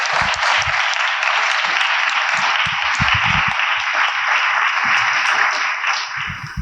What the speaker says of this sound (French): une bonne main d'applaudissements à nos panélistes